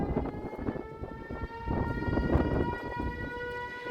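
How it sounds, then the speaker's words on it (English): Tornado warning sirens wailing outside a TV station in North Nashville, a steady, loud, rising and falling mechanical tone holding throughout with no talk. "Those sirens from right outside Fox 17 station here in North Nashville, as Nashville was under a tornado warning earlier this evening"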